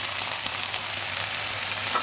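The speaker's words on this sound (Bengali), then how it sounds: "এখানে জিরে, ধনে, লঙ্কা গুঁড়ো এবং হলুদ গুঁড়ো আর নুন সব কিছু এবার ভালোভাবে ভেজে নিচ্ছি।" A paste of cumin, coriander, chilli and turmeric powder with salt frying in hot oil, a dense, even, close sizzle that holds steady throughout with no talk.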